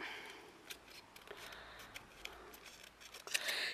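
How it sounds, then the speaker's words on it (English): Scissors snip quietly around a paper tag in a vintage craft project, a series of soft, irregular cuts with light paper rustle, close but faint and without talking. "All I've got to do is to, trim around."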